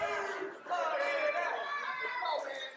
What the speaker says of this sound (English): Crowd calling for them to hug it out.